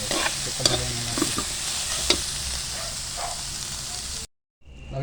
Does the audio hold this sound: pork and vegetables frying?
yes